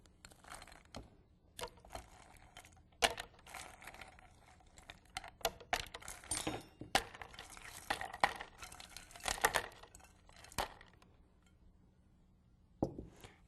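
Around a dozen ice cubes drop into a blender for a frozen orange juice concentrate and vanilla drink, giving scattered sharp clatters and knocks with quiet gaps between them.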